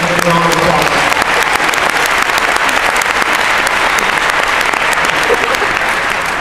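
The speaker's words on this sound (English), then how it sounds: "I'd like to give both the boys hockey and the girls basketball a big round of applause" A crowd at a high school pep fest claps in sustained, loud, dense applause that holds evenly throughout without pause.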